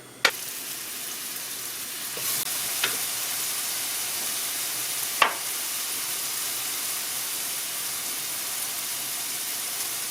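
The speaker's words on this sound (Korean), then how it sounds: "올리브유를 한번 둘러주고 마늘 한 스푼 넣습니다." Garlic sizzling in olive oil in a pan for a stir-fried sea snail dish, a steady broadband frying hiss with a few sharp pops and crackles, no talk.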